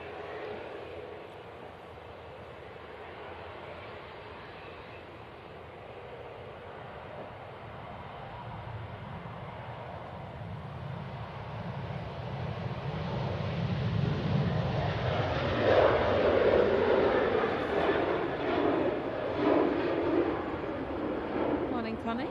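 Ryanair Boeing 737-800 departing Manchester Airport for Belfast, its jet roar starting faint and distant, then building to a louder rumble toward the end while people talk nearby.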